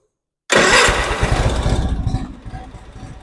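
A 1996 Craftsman GT6000 lawn tractor engine cranks after a moment of silence, then catches abruptly and settles into a loud, rough, close-up idle with a steady chugging pulse.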